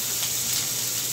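Chickpea curry ingredients sizzle in a pan with a steady, close hiss for the whole moment, with no talk over it.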